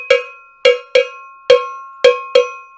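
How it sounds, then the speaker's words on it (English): A cowbell struck six times at an uneven pace, each hit a loud, close, bright metallic clang that rings briefly and decays, with no talking around it. "But the most noisy of the lot is my cowbell."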